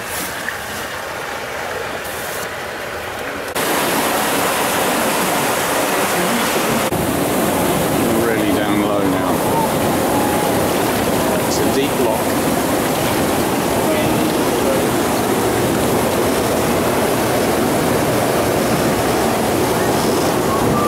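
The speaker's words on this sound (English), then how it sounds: "Water leaking from the locked gates behind us." Water leaking through closed canal lock gates, a loud steady rushing and splashing that starts suddenly after a few quiet seconds and continues without a break, heard from a canoe nearby.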